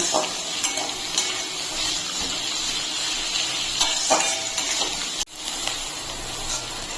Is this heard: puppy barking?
no